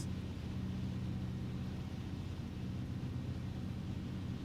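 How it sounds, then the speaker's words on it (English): Light aircraft engine in a bush-flying flight simulator, running with a strange note as a steady, loud droning hum that stays constant for the whole stretch without any talk. "Engine just sounded strange there"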